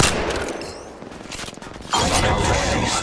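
Gunfire in the mobile shooter Apex Legends Mobile, heard at close range: sharp rapid bursts of shots, then from about the midpoint a louder, nearly continuous stream of automatic fire.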